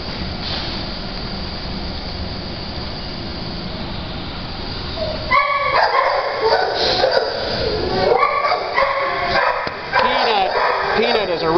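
A six-month-old, 35-pound dog barks and gives high, wavering whimpers and yips in the second half of the clip, mixed with a person talking and steady background noise.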